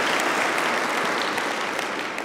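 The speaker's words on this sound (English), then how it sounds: "we're clapping for them" A church congregation at an Easter Sunday morning service claps loudly and continuously, a thick, sustained wash of many hands that holds steady before tapering slightly at the end.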